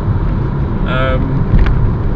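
A 2001 BMW 330Ci coupe's 3-litre engine runs steadily with a low rumble, its pitch briefly rising as it accelerates harder, over continuous road and cabin noise.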